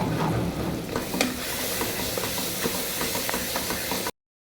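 Vegetables and masala powders sizzle and hiss steadily in a hot pan while being sautéed, with occasional scraping stir clicks; the sound cuts off abruptly near the end.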